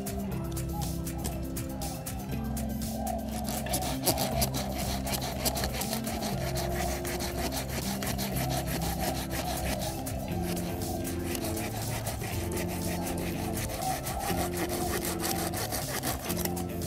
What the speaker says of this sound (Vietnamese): Không, cưa bỏ cái này luôn nè.